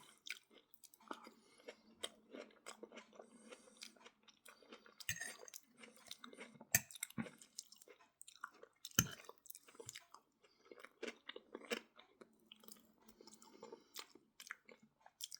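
Close, crisp chewing of crunchy cooked garlic with eggs and onion, irregular bites and crunches continuing through the stretch with wet squishy mouth sounds, quiet and intimate, no speech.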